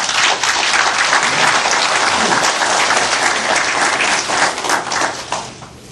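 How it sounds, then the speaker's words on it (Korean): An audience welcomes presidential candidate Moon Jae-in at a broadcasting journalists' club debate with loud, full applause. The clapping stays steady and dense before thinning out near the end. "박수로 맞아 주십시오"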